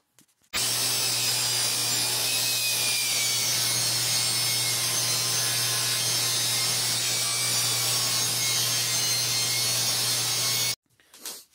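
A power saw makes rip cuts along a wood flooring piece for a transition strip, a continuous loud whine with a steady low hum beneath, running nonstop for about ten seconds before cutting off abruptly.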